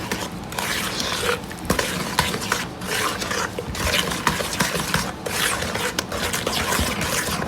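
Muffin batter for zucchini bread being stirred with a utensil in a bowl, giving close, uneven scraping and wet clinking sounds in quick irregular strokes after vegetable oil and vanilla go in.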